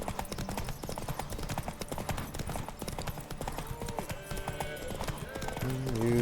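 Geralt's horse Roach gallops in The Witcher 3, with quick rhythmic clip-clop hoofbeats throughout and a brief snort or whinny near the end, heard over game ambience.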